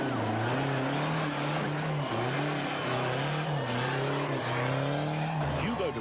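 A diesel-powered Ford Racing Ranger off-road race truck drives hard, its engine droning loud and close with rising and falling revs throughout, and no voices.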